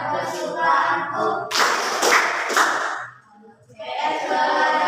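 Three sharp, loud hand claps land in a quick, even rhythm between lines of a classroom song about social studies, with voices singing just before and after.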